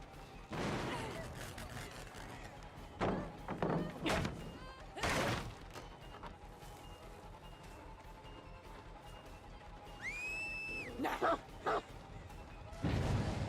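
A dog in Dead by Daylight barks several times, in short loud bursts scattered through the stretch, amid thuds and other game noises while a person talks over it.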